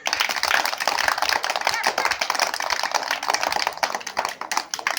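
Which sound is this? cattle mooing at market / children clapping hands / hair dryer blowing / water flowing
children clapping hands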